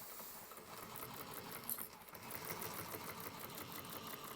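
A sewing machine runs steadily, stitching and backstitching over a thick bag gusset seam at a 1/4 inch allowance, a close continuous mechanical whir with no talking.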